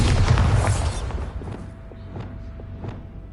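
Bombarda spell blast in Hogwarts Legacy, cast in a haunted Hogsmeade shop: a loud, close boom that rumbles and fades over about a second, followed by a few faint scattered clicks and knocks.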